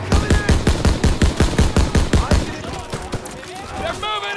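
Rapid machine gun fire in a Call of Duty WWII battle, loud evenly spaced bursts for about two and a half seconds, then fading into rumbling battlefield noise with shouted voices.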